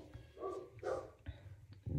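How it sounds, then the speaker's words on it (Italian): Dogs bark indoors in the background while someone works on a crochet piece at home: two short, faint barks at a distance, then a quiet room with a low hum. "i miei video senza i cani che abbaiano ormai non si possano più fare"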